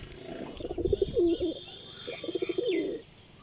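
A male red-bordered pigeon coos close by, two rolling, throaty phrases about a second apart, with faint chirps from other birds behind.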